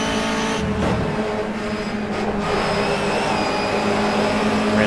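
A race car engine sits hard against its rev limiter, a loud, steady, buzzing roar with rapid stuttering cut-outs that runs without a break for several seconds, close and alone.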